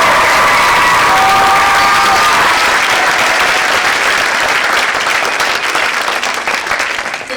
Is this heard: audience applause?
yes